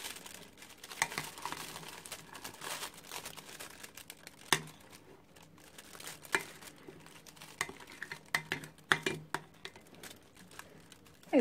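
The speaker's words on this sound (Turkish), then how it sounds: "Krem şantimizi poşete koyacağım. Çıkması kolay olsun diye. Şöyle poşetimizin içine dolduralım." A plastic piping bag crinkles and rustles as whipped cream is spooned into it for a fried peach dessert with walnuts and honey, giving a close run of irregular soft crackles and taps with no talk.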